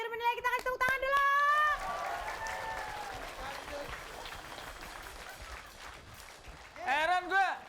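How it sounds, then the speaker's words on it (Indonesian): A studio audience on an Indonesian comedy show gives a sustained round of applause during a judging segment. A voice speaks briefly at the start, and the clapping builds into a steady wash before fading under renewed talk near the end. "Kita kasih tepuk tangan dulu."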